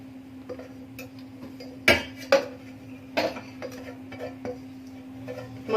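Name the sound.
transferring corn flour dough into a metal tray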